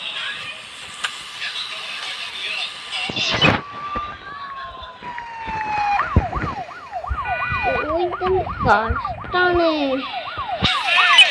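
Wailing police car siren in a video game, rising and falling in a steady repeating sweep for several cycles, loud and close, with game noise, a sharp impact and brief talk mixed in.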